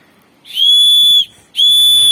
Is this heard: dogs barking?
no